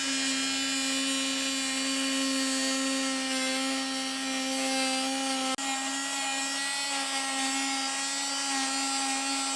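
A power tool sanding a groove in a teak boat deck gives a steady, loud, continuous tonal whine, close by and unbroken, with one brief knock partway through.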